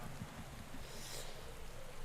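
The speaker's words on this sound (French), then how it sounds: "Première sous la pluie, et on peut voir la qualité de la pluie." Steady rain hisses throughout a wet stage of the Pro Cycling Manager 2015 cycling video game, a dense, even wash of falling drops with no voices.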